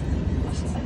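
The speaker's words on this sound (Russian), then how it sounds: "Коротенький состав, небольшой это. Все, пока, поезд." Short freight train hauling gasoline tank cars rolling past outdoors, a steady close rumble of wheels on rails.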